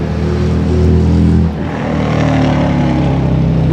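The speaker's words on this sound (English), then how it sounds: "Let that motorcycle go by." A motorcycle engine roars loudly and close, its drone dipping briefly midway and then continuing strong as it passes by outdoors, with no voice.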